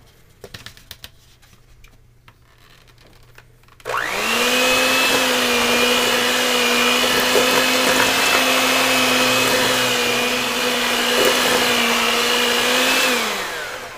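An electric mixer beats oatmeal cookie dough with flour, cinnamon, baking soda, salt and cloves, starting abruptly after a quiet few seconds, then running loud and steady with a constant whine until it slows and stops near the end.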